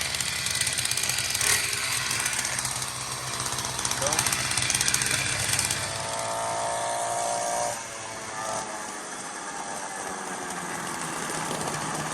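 A small 49cc dirt bike engine runs close by with a harsh rattling buzz, then settles into a steadier idle. A voice speaks briefly over it.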